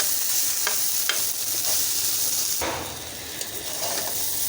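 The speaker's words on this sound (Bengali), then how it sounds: "মাঝে মাঝে কিন্তু এটাকে নেড়ে দিতে হবে, না হলে নিচে থেকে লেগে যাবে।" Jute leaves frying with grated coconut in a pan sizzle loudly and continuously while being stirred, with periodic scraping strokes of the spatula and a brief surge of hiss midway.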